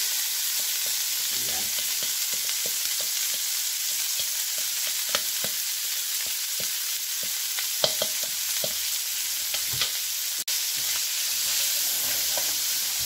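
Lechon sisig sizzles hard in a hot pan while being stirred, a constant loud frying hiss broken by irregular scraping clicks and knocks from the utensil; a brief word is spoken.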